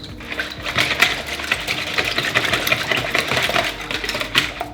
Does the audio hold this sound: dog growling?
no